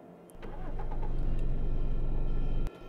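A car engine starts up in the zombie-survival game Cataclysm DDA, cranking into a steady low rumble that holds for over two seconds before cutting off, loud and alone with no talk.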